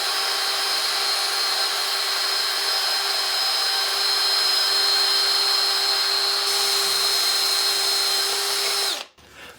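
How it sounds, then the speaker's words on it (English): Rotary power tool, drill-driven, scours rust off a boat engine leg's drive shaft, a steady loud whine running continuously for about nine seconds before cutting off abruptly. "just cleaning some rust off the drive shaft there"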